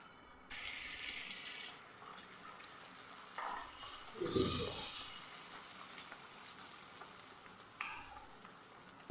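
Raw-rice snack dough frying in hot oil makes a steady, soft sizzle, with a few louder bubbling swells and light stirring clinks. The whole clip is quiet and close, with no talking.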